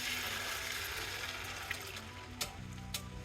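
Meat stock poured from close by into a pot of Nigerian ogbono and okra soup, a steady liquid rush lasting about three seconds, with a few light clinks near the end.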